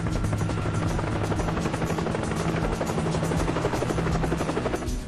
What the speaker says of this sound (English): We can hear a helicopter.